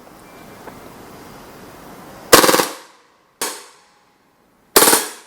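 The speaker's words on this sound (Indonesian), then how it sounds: "Oke, tembak pakai burst." VZ61 Scorpion airsoft gun rattling off three short bursts, each a loud rapid string of sharp mechanical shots, the first after a stretch of quiet room noise and the others following with pauses between.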